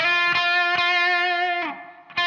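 A distorted electric guitar plays closing blues licks, sustained notes with a bend and a few picked attacks, clear and close with no talking.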